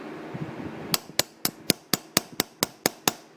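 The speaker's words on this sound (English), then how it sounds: "these are aluminum, so I'm going to hit it a little harder" Steel hammer tapping a punch to drive the pin out of an aluminum straight razor, nine sharp metallic taps at a steady, even rhythm, close and clear with no talking.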